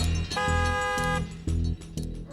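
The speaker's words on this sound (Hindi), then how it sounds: "ड्राइवर हॉर्न दे रहा है" A car horn honks three times, one long blast followed by two shorter toots, fairly close and clear.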